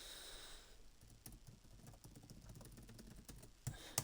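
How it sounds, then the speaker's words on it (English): Quiet clicking of a laptop keyboard being typed on, soft irregular key taps in a hushed room with a couple of slightly sharper clicks near the end. "Don't mind me if you can hear my laptop typing there."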